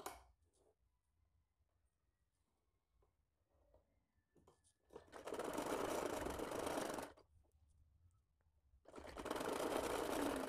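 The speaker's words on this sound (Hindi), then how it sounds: "और अब इस साइड से भी हम इसको सिल देंगे" Sewing machine stitching a small baby ear cap, with two sustained whirring runs of rapid stitching, each a couple of seconds long, separated by quiet handling of the fabric, close and alone.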